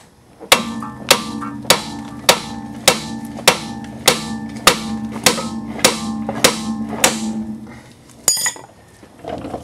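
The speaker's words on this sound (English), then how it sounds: "take a big hammer and you're going to pound on this flat spot on the spindle right here" A big hammer strikes the flat spot of a spindle on an Audi A4 B5 1.8T to knock out a ball joint, about fifteen hard, evenly spaced metallic blows ringing out close and loud, then a final clank as the joint lets go.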